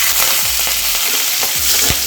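Curry leaves drop into a hot pan of oil for a spicy chutney, and a loud, steady sizzle and crackle follows, with a few stirring scrapes and no voices.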